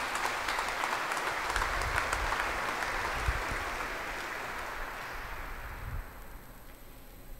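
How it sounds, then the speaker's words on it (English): Audience applause at a commencement exercises ceremony, a dense, steady clapping from a large crowd that holds strong for several seconds, then gradually fades and thins out toward the end, with no talking over it. "Let us give them a round of applause."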